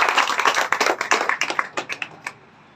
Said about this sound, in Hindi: हमारे मुख्य अतिथि के लिए एक जोरदार ताली बजाकर इनका स्वागत